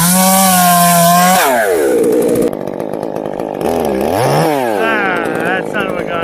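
A Stihl chainsaw at low idle while felling a tree in winter, its pitch rising and falling as the engine revs unevenly, loud and close throughout.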